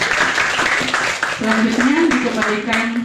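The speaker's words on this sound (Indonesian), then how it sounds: "mari kita tepuk tangan untuk kita semua." Audience applause at a high school sharing session in Kotamobagu, steady clapping with a voice speaking on top of it.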